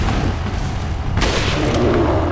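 Rifle gunshot in Resident Evil 4, a single loud crack cutting through a dense, booming game soundscape with rumbling low background noise.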